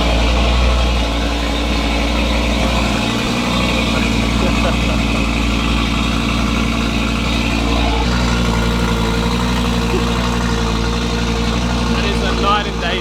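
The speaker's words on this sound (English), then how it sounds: "now it's finally time for the first startup." Audi RS3 fitted with a custom downpipe and midpipe idling loudly after its first startup, a deep steady exhaust rumble close by, with a slight change in tone partway through.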